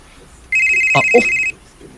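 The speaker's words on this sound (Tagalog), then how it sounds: "Si Wilfred maning nanawag" A telephone gives a single short electronic ring for an incoming call, a steady bright tone lasting about a second and loud in the foreground, with a brief voice sounding alongside it.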